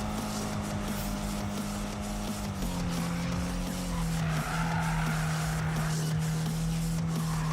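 Race cars in Need for Speed (2015) roar with steady engine drone while tires squeal and skid continuously, the engine pitch shifting partway through.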